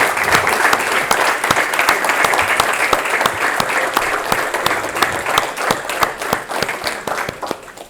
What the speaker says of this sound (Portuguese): e darmos uma salva de palmas